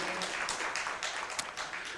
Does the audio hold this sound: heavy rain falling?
no